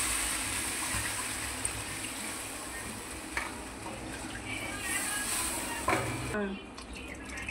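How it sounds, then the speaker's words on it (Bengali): Water going into a pot of spiced vegetables after the masala has been cooked down, a continuous close hissing pour with a few clinks of utensils and a brief stir near the end. "আমি জল দিয়ে দিলাম"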